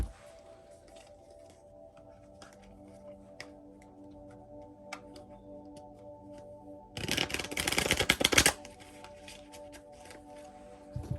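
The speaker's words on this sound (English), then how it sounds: "If only they will shuffle, because there's so many of them." A brisk burst of tarot cards being shuffled, a dense riffling rush lasting about a second and a half, preceded by quiet light ticking and handling noises.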